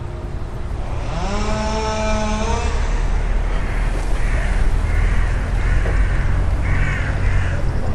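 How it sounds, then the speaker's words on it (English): Several crows caw in a short harmonic series early on, loud and fairly close, over a steady outdoor hum from traffic at an urban site in Milton Keynes, UK; further faint calls follow. "a murder of crows"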